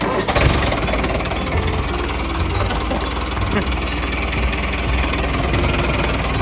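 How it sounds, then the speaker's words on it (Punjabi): A tractor engine catching with a brief burst and then settling into a loud, steady diesel idle that rumbles close by without pause. "ਟਰੈਕਟਰ ਸਟਾਰਟ ਕਰਨ ਲੱਗਿਆ"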